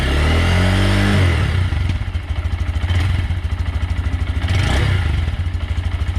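A 2022 Honda Grom motorcycle with its stock exhaust idles nearby. A brief blip of the throttle settles into a steady, fairly quiet putter with an even pulsing rhythm.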